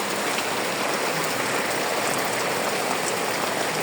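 Dense, even hiss of light rain falling steadily in Bhola district, close and continuous with no voices.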